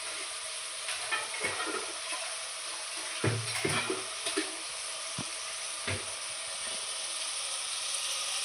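A curd mixture for mushroom biryani sautés in a pan, giving a continuous close sizzle broken by scraping stirs and clinks of a spoon against the pan.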